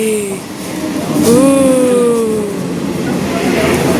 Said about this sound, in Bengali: ওই দেখো ট্রেন এসে গেছি